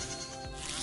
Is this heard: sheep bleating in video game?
yes